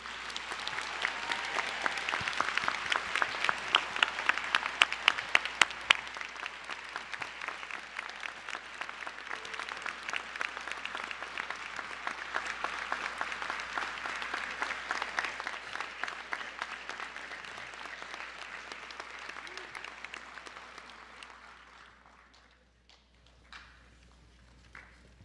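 An audience at the 2017 Cherokee National Honor Society induction ceremony claps steadily for the new inductees, a dense, sustained round of applause from a large room that fades out near the end.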